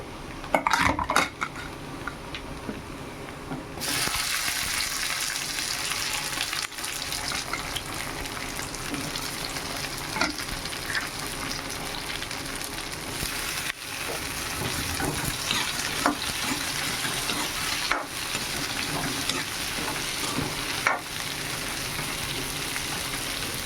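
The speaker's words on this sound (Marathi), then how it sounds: "लसण भाजला का लगेच फणस टाका तुम्ही कारण फणसाला थोडं भाजू द्या" Jackfruit fries with garlic in a pan for a simple jackfruit vegetable dish. A continuous close sizzle runs throughout, with a utensil scraping and clinking against the pan, and no talking.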